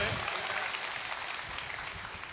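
Dense, steady applause from a mushaira audience in Muzaffarnagar fills the whole stretch as a loud, even wash of many hands, with crowd murmur mixed underneath.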